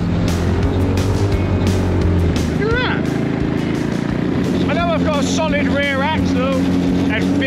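An 8-horsepower engine on a mini jeep labours as it drives through snow, droning loud and steady throughout while people talk over it.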